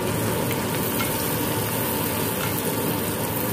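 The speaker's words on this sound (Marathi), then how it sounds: "परत हा एकसारखा परतून घ्यायचा छान त्याचा कांदा" Chopped onion with tomato and salt sautés in a pan while being stirred, a loud dense continuous sizzle close by with faint scraping under it.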